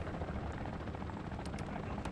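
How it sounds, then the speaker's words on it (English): A helicopter in Call of Duty Modern Warfare Zombies gives off a steady, loud rotor drone that fills the moment without pause, with faint clicks of gameplay over the top. "it says destroy helicopter."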